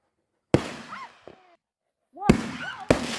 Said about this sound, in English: We had fireworks left over from our 4th of July party, and we brought those with.